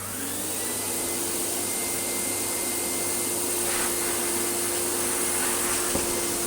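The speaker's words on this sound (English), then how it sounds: "So let's put the Philips back and try and at least suck all of this up" A Philips Triathlon 1300 vacuum cleaner runs steadily as it sucks shampoo up from a carpet, a loud, close, continuous motor whine with airy suction noise and no talk.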